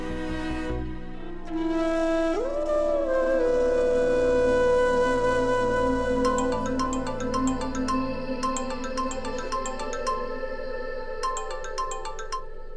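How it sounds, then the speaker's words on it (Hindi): A phone ringtone plays alone, a sustained melodic tone that builds into a repeating chiming pattern, steady and fairly loud throughout. "अनु, मैं तुम्हें कब से फोन कर रहा हूँ, तुम फोन नहीं उठा रही हो।"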